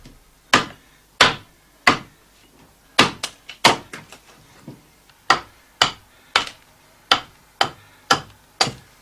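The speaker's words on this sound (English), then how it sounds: "He shapes the seat with the hand axe." A hand axe chops and shapes a wooden chair seat in a traditional chair maker's workshop, striking in a steady series of sharp, close, woody blows with brief pauses between groups.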